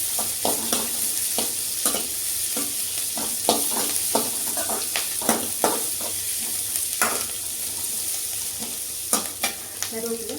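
Green chillies sizzle steadily in a hot pan while a spoon stirs and scrapes them in repeated, irregular strokes, with crisp clicks over a constant frying hiss.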